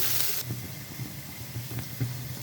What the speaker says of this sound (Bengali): তেলটা গরম হয়ে গেছে, দিয়ে দিব পেঁয়াজ কুচি, দিব কাঁচা মরিচ, দিয়ে এটাকে ভালো করে ভেজে নেব।